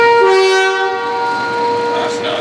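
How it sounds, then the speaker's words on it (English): A locomotive horn gives one sustained, loud blast from inside the cab of a train on display at an open day, holding steady for about a second before fading into the hum and chatter of the cab. "Can I have a quick blast on the horn?"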